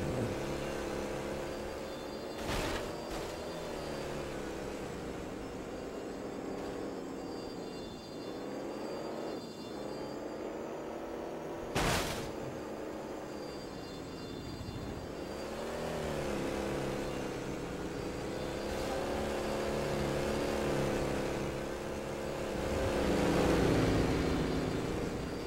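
A car driving through a custom racing map in a video game, engine droning steadily with rising and falling pitch as it accelerates and shifts, plus a couple of sharp clunks from bumps or impacts along the way.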